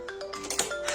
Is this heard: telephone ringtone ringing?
yes